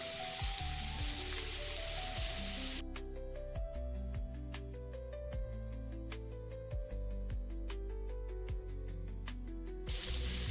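An egg hits a hot pan of cabbage for a paper roll and sizzles loudly with a broad spraying hiss. For most of the stretch, music plays over the sizzle, and the frying returns alone at the end.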